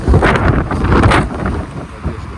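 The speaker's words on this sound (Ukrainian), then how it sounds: "Боже, опять цей вітер." Gusty wind buffets the microphone outdoors with a loud, low rumble that eases slightly toward the end.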